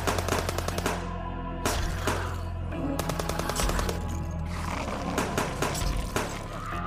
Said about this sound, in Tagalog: nakita niya agad ang pinagmumula ng putok ng baril